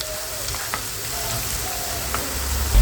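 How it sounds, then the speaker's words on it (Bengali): Cabbage and carrot pitha frying in oil in a pan, giving a continuous soft crackling sizzle with small pops, steady and fairly close, without any talking. "এখন আমি খুব সুন্দর করে ভেজে নিচ্ছি।"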